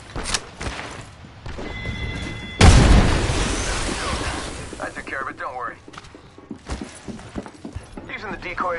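Frag grenade explosion in PUBG: a single loud boom bursts out mid-clip and decays into a rumbling tail, with game voice lines and other sounds before and after.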